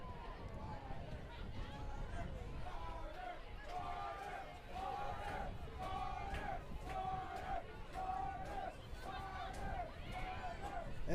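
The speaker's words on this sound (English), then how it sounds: "It is a pretty packed crowd tonight" A packed crowd at a high school football game between New Haven and Clintondale, in a brand new stadium, sends up loud, rhythmic chanting and cheering in repeated swells over a constant roar of voices.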